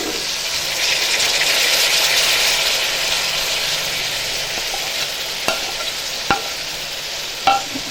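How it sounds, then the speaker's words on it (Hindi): Tomatoes fry in a pan with a dense, steady close-up sizzle that swells slightly early on, followed later by a few sharp isolated clicks of a utensil against the pan. "टमाटरों को अच्छे तरीके से फ्राई करेंगे।"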